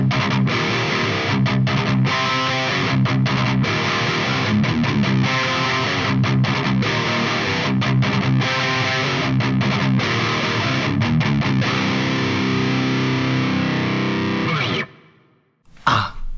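Electric guitar played straight into an EVH 5150 amplifier with no overdrive pedal, chugging a loud, distorted riff with rapid palm-muted bursts and stops, then cutting off abruptly near the end.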